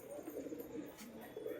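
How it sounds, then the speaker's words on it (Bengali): Domestic training pigeons coo softly and continuously nearby, a low, rolling burble with no voices over it. "আর আমার আরও কিন্তু 3টা নতুন পায়রা উড়ে যায়"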